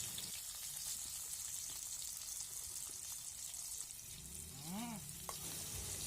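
Onions and chillies sizzle steadily in hot oil in a wok used for frying fish, a constant close crackle with a brief scrape or clink near the end.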